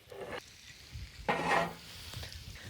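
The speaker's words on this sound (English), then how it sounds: "Add the shallots to the melted butter and oil. And put the shallots back on the grill" Shallots cooking in melted butter and olive oil on a grill, a faint sizzle punctuated by a louder burst of scraping and spattering midway, plus light clinks, heard up close without speech.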